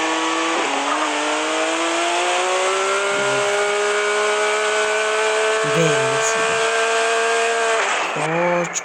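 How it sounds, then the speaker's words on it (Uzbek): A loud, sustained BMW engine whine revs and holds its pitch, dropping and rising again near the end, with synthetic racing-game car audio throughout. "Lekin bu mashinalar tez yuradi."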